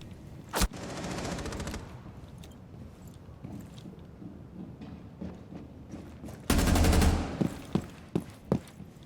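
Call of Duty gunfire shooting through a wall: a sharp single shot, then a short automatic burst, later a loud sustained volley and a few scattered single shots, close and punchy with quiet gaps between.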